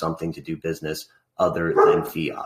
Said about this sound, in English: I'm sorry about my dog barking in the background.